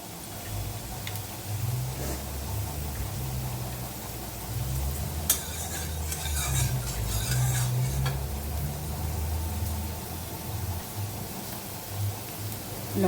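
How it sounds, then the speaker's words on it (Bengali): Boiled green jackfruit frying in a pan, a steady close sizzle with intermittent scraping and clattering of the stirring utensil, no talk. "এখন এটাকে ভাজতে বসাবো।"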